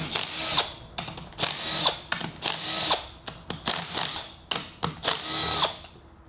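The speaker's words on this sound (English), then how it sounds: "We know you don't like the rattle gun" An impact wrench removes the engine cover bolts on a Sea-Doo personal watercraft. It gives repeated short, loud rattling bursts close by in a fairly regular on-off rhythm.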